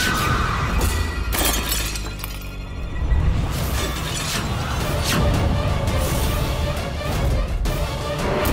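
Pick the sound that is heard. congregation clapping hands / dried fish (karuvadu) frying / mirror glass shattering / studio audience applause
mirror glass shattering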